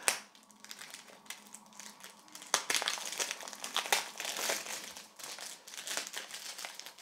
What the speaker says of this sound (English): let's first remove the cellophane, which is always really satisfying